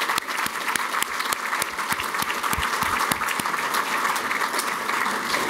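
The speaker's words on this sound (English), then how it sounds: "Give them a round of applause." Sustained applause from an audience at a Chicago Department of Aviation public event, dense steady clapping at even loudness throughout with no voices over it.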